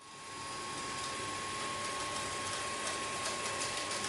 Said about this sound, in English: Once the vacuum finishes mapping out the room, it'll go around the area to begin the cleaning process.